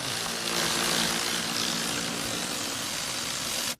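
A Ryobi cordless tool whirs steadily as it removes nuts, a loud, dense motor drone held for several seconds before cutting off abruptly.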